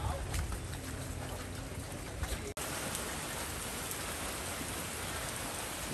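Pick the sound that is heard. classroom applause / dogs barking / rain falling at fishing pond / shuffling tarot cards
rain falling at fishing pond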